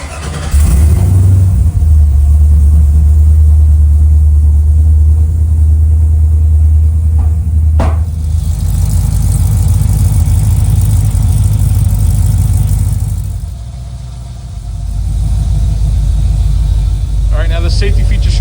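A car engine started with a keyless push-button system cranks and catches after a brief click, then settles into a loud, steady idle rumble that dips briefly later, with speech over it.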